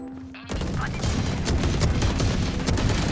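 Shotgun blasts in the tactical shooter Valorant, erupting after a brief quiet lead-in into a loud, sustained barrage of heavy overlapping shots and booms, close to the listener.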